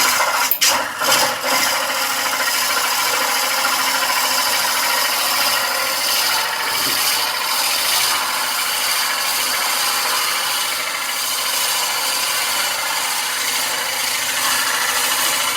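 Wood lathe with a cutter turning a salt and pepper mill blank, a continuous loud, even scraping and rasping hiss that runs steadily throughout, close up with a few brief knocks near the start.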